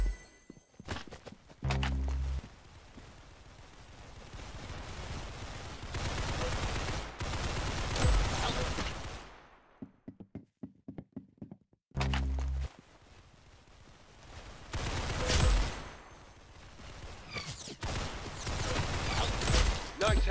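Gunfire in the Roblox game Arsenal, bursts of rapid shots and single cracks mixed with footsteps and game effects, loud, with a brief quieter gap partway through.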